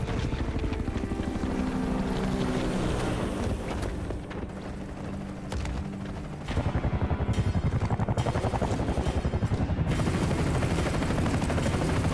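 A helicopter in the video game Gears of War sends out a loud, steady rotor roar that continues for the whole stretch, with heavy rumbling noise and a slight surge partway through.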